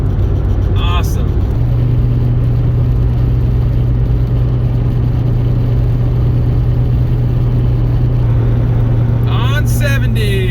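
Steady car engine and road drone at highway speed on Interstate 70 at sunset, continuous and close, with a low hum running throughout and brief higher swishes near the start and end.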